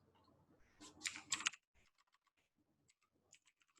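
Quick bursts of keys clatter on a computer keyboard, a dense cluster of taps followed by sparser, softer key presses, close and alone.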